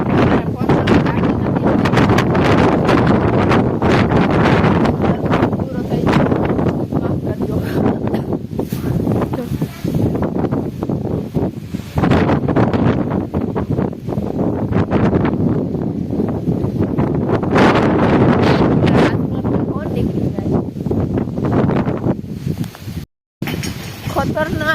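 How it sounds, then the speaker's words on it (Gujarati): Strong storm wind gusts outdoors during a sudden rain and windstorm, roaring and buffeting the microphone in loud continuous rushes with a brief dropout near the end; voices talk over it. "ખતરનાક પવન હે, વાવાઝોડા જેવું"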